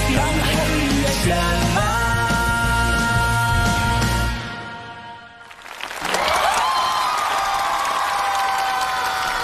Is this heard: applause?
yes